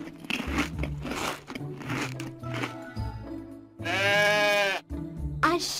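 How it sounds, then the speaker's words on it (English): A sheep bleats once in a long, wavering call, loud and close, amid crunching chewing sounds from grazing on grass, with steady background music throughout. "A sheep."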